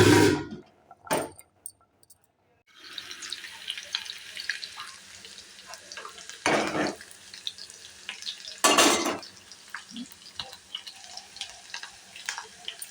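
Tempering, or talimpu, sizzling in hot oil for a tomato dal with fenugreek leaves, heard as crackling and stirring with a few clanks of utensils against the pan, loud bursts at first and then a steady fry.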